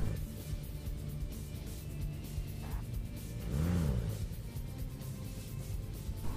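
A car engine in PUBG Lite restarts and pulls away, a low continuous rumble with a brief rising rev in the middle, moderately close and without talk.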